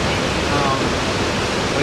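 Sekumpul Waterfall in Bali roars as a steady, dense wash of falling water, loud and unbroken throughout with no distinct events.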